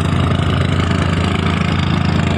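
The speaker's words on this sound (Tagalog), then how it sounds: "At may bangka pong parating." A fishing boat's motor thrums on Manila Bay as the boat approaches, a loud, steady, low chugging engine running continuously without a break and with no voices over it.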